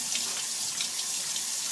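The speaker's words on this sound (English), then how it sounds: "I'm going to give them a really good rinse until the water underneath runs really clear" Lentils rinsed in a sieve under a running kitchen tap make a steady, close, continuous hiss of flowing water with no pauses and no talking.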